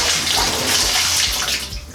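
Water runs steadily through a Delta shower valve just after a cartridge replacement, a loud, continuous broadband rush that holds the same level from start to finish with no talking.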